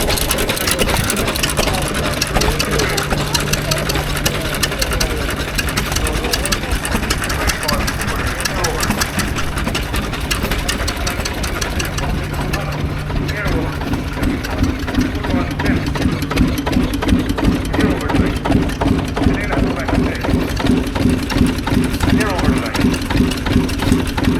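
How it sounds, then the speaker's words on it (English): A stationary engine idles loudly with a steady rhythmic chugging throughout at the National Ploughing Championships, an agricultural show, while people talk in the background. "More stationary engines."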